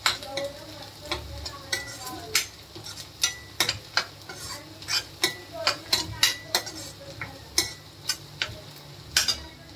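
Onions fry in a pan for masala chole and a utensil stirs them, bringing sharp repeated scraping clinks in an uneven rhythm over a soft sizzle, close and clear.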